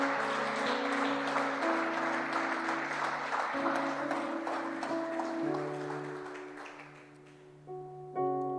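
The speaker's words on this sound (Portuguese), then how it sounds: "Você pode aplaudir ele, amado?" Congregation applauding in a church service, sustained clapping from many hands at moderate distance over a held organ or keyboard chord that shifts and fades toward the end.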